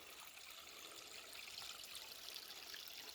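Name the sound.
cool fast-flowing mountain stream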